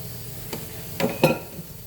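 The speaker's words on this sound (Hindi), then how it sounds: "इसके लिए मैं थोड़ा तेल डाल रही हूँ, अब तड़का दे रही हूँ।" Oil sizzles in a pan as cumin seeds are tempered for dal tadka, in a couple of short bursts over quiet background, close and fairly soft.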